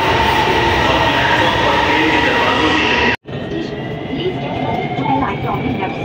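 A Lahore Orange Line metro train pulls into the station with a loud, steady rumble and hiss, broken by one abrupt cutout before the roar resumes, with a voice heard over it.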